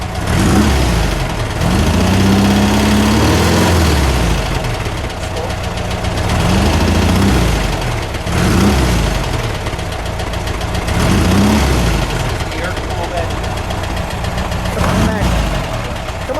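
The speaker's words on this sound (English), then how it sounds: "we'll get a little exhaust note" An air-cooled 1.8-litre 1974 Porsche 914 engine idles with a low, lumpy exhaust rumble, swelling gently in a few soft revs, loud and close, with a voice speaking faintly underneath.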